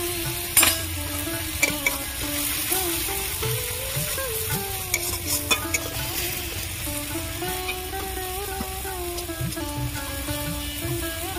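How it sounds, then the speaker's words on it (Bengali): Ginger paste stirred and fried in a pan with salt and melted tomato, a steady continuous sizzle with scraping stir strokes throughout, close and fairly loud, no talking. "আদা বাটা দিয়ে দেবো।"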